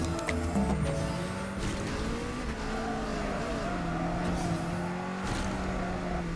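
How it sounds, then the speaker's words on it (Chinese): Car pulling a pendulum drift in the Ace Racer racing game: a sustained, loud engine drone that bends in pitch through the slide, with faint tire noise and no voices. "这样子呢就完成了中摆甩尾"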